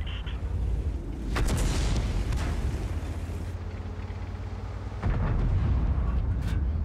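Tank cannon shots with premium ammunition in the video game World of Tanks, T32 tank: two heavy booming blasts about three and a half seconds apart, loud and close over a constant low engine rumble.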